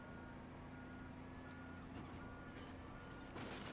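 Reversing alarm beeps steadily from a heavy vehicle in Teardown, a steady tone under a continuous engine rumble, with a brief louder burst of noise near the end.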